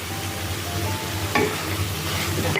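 Paneer and mixed vegetable stir fry sizzles steadily in a pan, a continuous broadband frying hiss with occasional stirring scrapes and a low hum underneath, moderately close and without voices.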